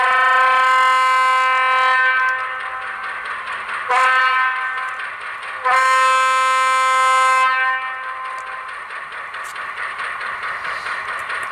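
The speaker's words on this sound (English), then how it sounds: "I'll leave you with a crossing horn." Walthers Mainline SW-7 model locomotive sounding its crossing horn: a chord-like electronic horn in long and short blasts, loud and close, trailing into a steady idling rumble.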